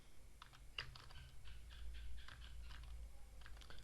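Computer keyboard keys clatter in quick irregular bursts of soft clicks, close and fairly quiet, over a low steady hum in a room.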